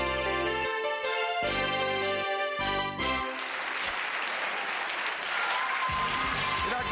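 An audience at a televised Russian show breaks into applause for the contestants, a dense, sustained clapping that swells over music and carries on steadily.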